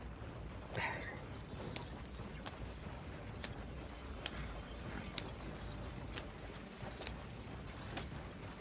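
Hooves of a horse-drawn carriage clip-clop at a steady walking rhythm in the Red Dead Redemption 2 video game, faint and continuous with a brief whinny early on.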